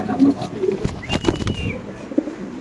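Lahori pigeons, including black Lahoris, cooing at a pigeon farm: several soft, low coos close by in short separate bursts, with faint rustling and other bird sounds in the background.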